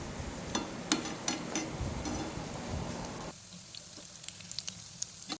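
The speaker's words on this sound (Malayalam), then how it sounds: "ഇനി അടുത്ത ഭാഗം കൂടെ ഒന്ന് ഫ്രൈ ആയി വരുന്നത് വരെ വെയിറ്റ് ചെയ്യാം." Chicken cutlets sizzle and crackle steadily in hot oil in a home kitchen, with close, bright popping spatters over a continuous hiss that thins out and quietens toward the end.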